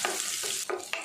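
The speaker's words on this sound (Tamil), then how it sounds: "வெங்காயம் சேர்த்துட்டு நல்லா வதக்கி விட்டுடலாம்." Chopped onions sautéed in hot oil for chicken soup, a close sizzle broken by three or four quick stirring scrapes of a spoon in the pan.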